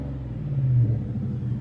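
Deep rumbling exhaust of a pickup truck with nearly 800 horsepower, idling and swelling briefly in a low throaty blip, close and steady with no talk.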